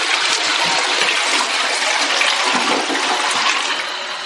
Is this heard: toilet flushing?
yes